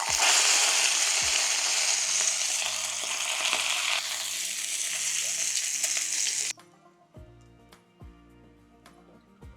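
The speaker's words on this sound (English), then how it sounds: "we'll make sure we sear the outside off as well" Whole beef fillet searing in a hot pan, a loud broadband sizzle and fry that runs steadily for several seconds, then cuts off abruptly, leaving faint clinks and handling noises.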